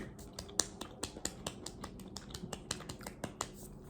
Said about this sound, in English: claps for Lizzie